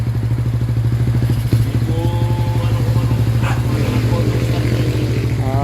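A Motor Star motorcycle engine with a carburetor problem idles unevenly, its rapid thumping pulses stumbling and misfiring, while people talk over the running engine.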